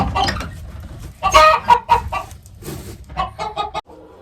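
Several chickens cluck and squawk in short, irregular bursts, close by, with a few sharper calls standing out among the chatter.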